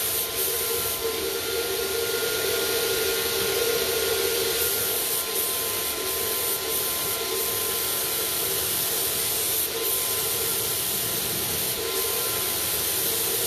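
A paint sprayer fed by a long hose hisses in a continuous loud airy spray that holds steady throughout, with faint brief breaks and a constant tonal whine underneath.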